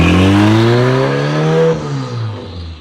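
A turbo K-series swapped FRS engine revs hard nearby. The pitch climbs in a loud, smooth rising whine, then drops away as the revs fall, with no talking.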